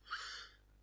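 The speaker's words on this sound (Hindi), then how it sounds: "माइक पे खांस दिया" A single short, breathy cough bursts right into a microphone and fades quickly in an otherwise quiet room.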